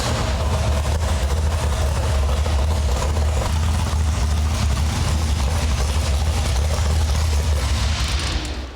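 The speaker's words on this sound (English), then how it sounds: "this is the best sounding engine I think that's in this building" A Ford engine bolted to a running engine stand idles steadily and loudly, a deep continuous rumble close by with no talk over it.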